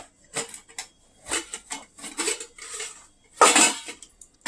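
Plates and spoons clink and clatter in a home kitchen while fried potatoes, egg and khichuri are dished out, a series of separate sharp metallic knocks and scrapes with short pauses between them.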